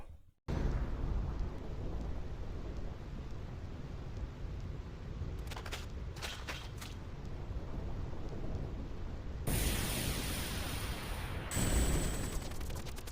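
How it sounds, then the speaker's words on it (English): A game thunderstorm on the Thunderplains in Final Fantasy X: steady heavy rain hiss with several sharp thunder cracks midway and a loud rolling crash near the end, no voices. "I hate lightning. I hate thunder."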